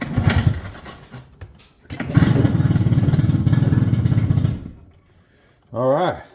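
A small outboard boat motor catches and starts with a loud, steady engine chatter that runs a couple of seconds before cutting off, followed by a brief voice.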